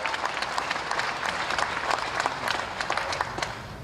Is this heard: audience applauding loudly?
yes